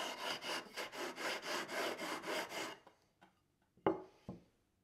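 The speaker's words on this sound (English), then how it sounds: "I want to maintain that radius as I evenly remove just a bit of material from all the frets." Guitar frets being leveled with a sanding tool, about a dozen even back-and-forth rasping strokes in steady rhythm, close and clear, then a pause with a couple of light knocks.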